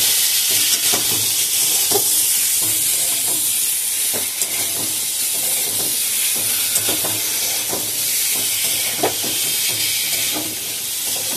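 Food with turmeric sizzles steadily in a small pot as it is sautéed, a loud continuous frying hiss broken by repeated scraping stirs at a loose rhythm.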